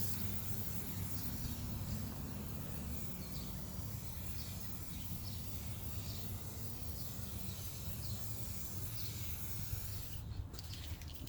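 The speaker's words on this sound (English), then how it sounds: "we're going to start off with putting some protector onto our liner, and that's using the Scotch Guard" Scotchgard protector sprayed from an aerosol can onto an engine bay liner: a steady, fairly quiet hiss of spray runs the whole time with no pauses and no talking.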